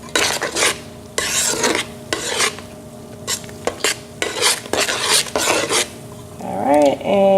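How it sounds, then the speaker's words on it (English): A spoon stirs pepper soup ingredients in a pot for Benin pepper soup, scraping and clinking in bursts with pauses, close and loud, ending with a brief rattling. "So this time I'm just going to go ahead and stir everything together."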